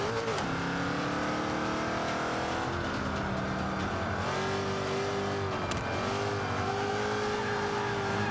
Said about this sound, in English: Sorry, I'm just heating up the tires here.